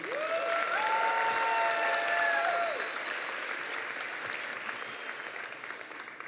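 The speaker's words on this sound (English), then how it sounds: "Another round of applause for Professor Barton" A crowd at a commencement ceremony gives a round of applause, a broad, steady wash of clapping that eases slightly toward the end, with a brief tonal sound heard early on.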